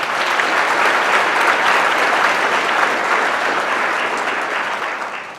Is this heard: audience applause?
yes